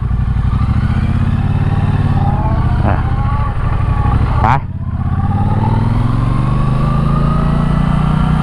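Engine of a Triumph Bonneville Bobber 1200 motorcycle while riding, a loud, steady low rumble with a brief dip in the middle before the throttle rises again.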